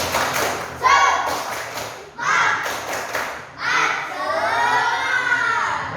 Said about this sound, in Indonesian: tepuk dengan semangat, tepuk semangat